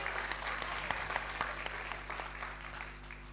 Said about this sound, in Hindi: एक बार जोरदार तालियों से आप लोग शुरुआत करें।